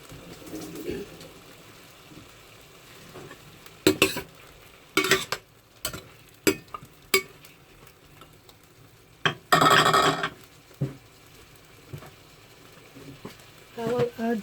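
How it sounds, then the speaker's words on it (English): A spoon stirs cubed chicken frying in a pan for chicken caldereta. Low sizzling runs under scattered scraping and clinking bursts of the utensil against the pan, loudest in a short stretch near the end. "Mix it with some chicken cubes"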